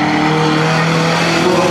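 A Toyota Celica race car runs a qualifying lap, its engine droning loud and steady at high revs with no break for the whole moment.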